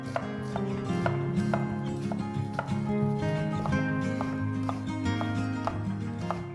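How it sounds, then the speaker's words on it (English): A knife finely chops an onion on a board in a quick, even rhythm of close, crisp taps over background music, with no one speaking. "Chopping the onions super fine will help it melt into the gravy."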